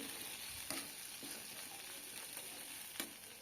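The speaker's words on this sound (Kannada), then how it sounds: "ಈಗ ಶೇಂಗಾ ಕುಟ್ಟಿದ್ನಲ್ವ ಅದನ್ನು ಹಾಕ್ತೀನಿ ಅದನ್ನು ಹಾಕಿ ಮತ್ತೆ ಸ್ವಲ್ಪ ಫ್ರೈ ಮಾಡ್ತೀನಿ" Crushed peanuts frying in oil for a chili-pepper dish, a quiet continuous sizzle with a few soft clicks and pops scattered through it.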